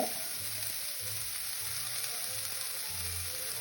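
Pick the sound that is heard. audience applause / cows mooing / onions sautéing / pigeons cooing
onions sautéing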